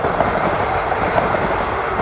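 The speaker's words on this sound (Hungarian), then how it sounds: "elhaladt Székesfehérvár irányába a Flirt, ugye ez személyvonat" A Stadler FLIRT passenger train passes on the Balaton north shore line near Csopak, heading toward Székesfehérvár. A loud, steady rushing rumble with faint wheel clatter continues throughout, close by, with no voices.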